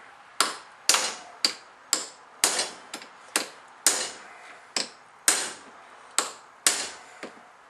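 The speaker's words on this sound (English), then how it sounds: "I'm having to manually hammer it on" A bearing is hammered by hand onto a commercial mower part, about fourteen sharp, ringing metallic blows at a steady, unhurried rhythm, each decaying quickly, close and clear with no talking.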